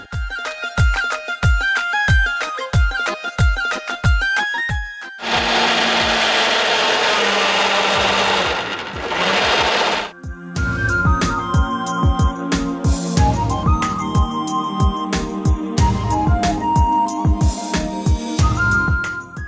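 A kitchen blender whirs through a dragon fruit smoothie, a steady, dense roar lasting about five seconds and set between stretches of plucky background music.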